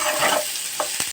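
Green chillies with salt stirred and frying in a pan, a dense continuous sizzle with a couple of brief scraping stirs near the end, close and loud.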